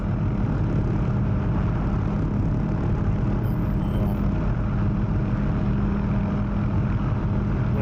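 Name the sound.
OH-6 helicopter engine in DCS flight simulator video game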